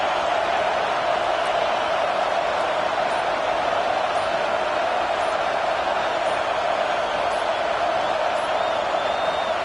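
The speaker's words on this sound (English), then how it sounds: "this crowd is fired up. Listen to this noise here" A football stadium crowd at an Oregon versus Penn State game sends up a continuous, loud roar of cheering that holds steady without a break.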